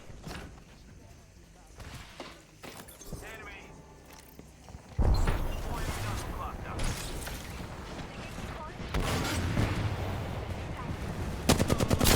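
Video game gunfire, starting with scattered mechanical clicks and occasional shots, then turning into dense, loud continuous firing and machine-gun bursts after a sharp onset, with someone talking over parts of it.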